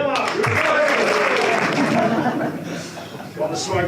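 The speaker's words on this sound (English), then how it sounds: "Next up, folks, please, a round of applause." A crowd at a boxing press launch gives a short round of applause for a fighter being introduced, steady clapping with chuckles and chatter mixed in and a voice speaking over it.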